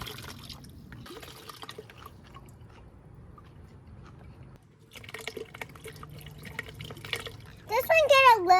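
Water trickles and drips as it drains out of small coconuts, soft irregular dribbling up close, followed by a brief louder splash and a voice at the end.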